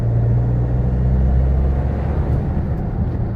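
A Nissan X-Trail with trouble engaging first gear is driven through its gears, its engine a loud, close, steady low rumble with a slight easing toward the end.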